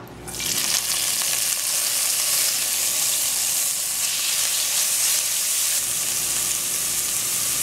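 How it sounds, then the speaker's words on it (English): Onion, garlic, tomato, pimento and hot pepper dropped into hot oil, a loud steady sizzling hiss that starts abruptly and continues close and unbroken. "Once the oil is hot, I am going in with all the onion, garlic, tomato, pimento,"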